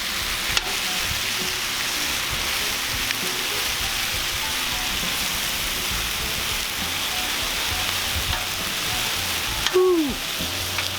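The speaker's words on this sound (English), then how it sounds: "Sizzling away." Chicken wings sizzling on a Cuisinart 360° griddle, a loud continuous hiss and crackle of frying that holds steady from start to finish, with a brief scrape near the end.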